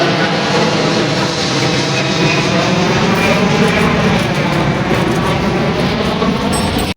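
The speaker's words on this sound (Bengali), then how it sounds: "আরেকটা বিমান আসতেছে" An airplane approaching near Dhaka airport in Uttara, heard as a loud, steady, close jet roar that holds for several seconds before cutting off abruptly.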